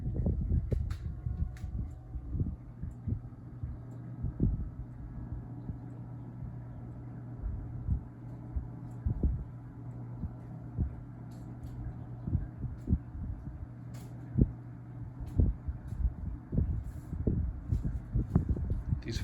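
A KDK 12-inch oscillating table fan in need of oiling runs on medium speed with a low, steady motor hum. Soft irregular thumps and rustles sound over the hum, which stays faint and close throughout.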